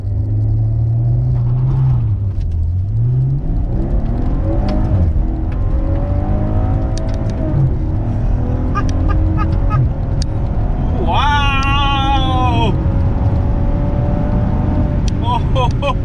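A 2017 Maserati Ghibli S engine revs up and the car pulls hard away, a loud rising engine roar with gear changes, joined by excited voices talking over the sound.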